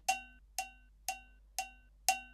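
The PolyNome metronome app sounds a bright, cowbell-like quarter-note click five times at an even half-second pace, with the first and last clicks slightly stronger and silence between them.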